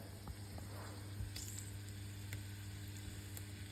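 Brussels sprouts sizzle cut side down in melted hot duck fat in a pan, a low, steady frying hiss with a few soft pops and crackles, close and continuous, no talking.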